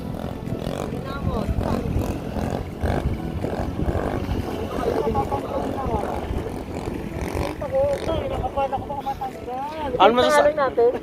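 Motorcycle engines rev and roar up and down nearby as a rider pulls a wheelie, rising to a loud whining burst near the end, with people talking over the noise.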